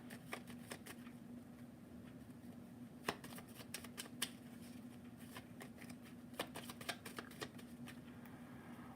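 Tarot cards are shuffled into a deck, close and quiet, with irregular crisp riffles and snaps over a faint steady hum.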